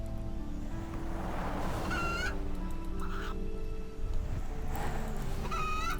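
Chickens in the RuneScape 3 game, short squawks and clucks popping up a few times over a steady low ambient game bed, fairly quiet and with no talking.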